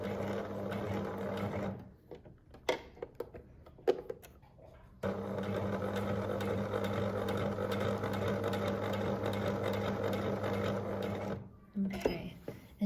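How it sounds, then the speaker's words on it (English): A sewing machine runs a stay stitch along a neckline with a close, steady hum. A brief stretch near the start is broken by clicks and handling noises, then a long continuous run follows, with a short pause near the end. "I'm just going to give this a stay stitch"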